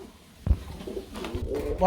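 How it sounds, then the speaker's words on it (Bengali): Spanish Deno pigeons, a pair offered for sale, coo softly up close in a short low burst, with faint background noise. "দেখতে পাচ্ছেন স্প্যানিশ ডেনো কবুতর"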